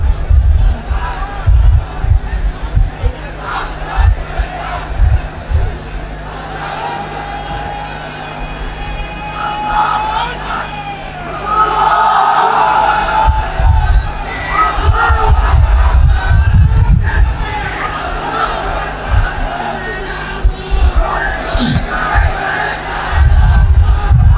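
A large crowd at an outdoor Islamic sermon in Lalmonirhat roars back in loud, repeated waves, chanting in unison in reply to a takbir call, the massed voices rising and falling across the whole stretch.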